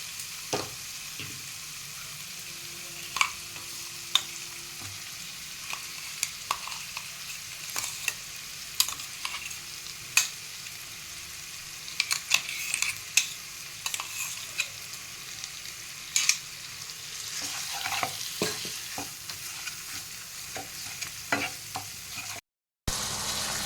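Shrimp paste frying and being stirred in a pan with sugar for a shrimp and pointed gourd dish: a steady low sizzle runs throughout, punctuated by scattered scrapes and clicks of the spoon, fairly quiet and close, with no talking.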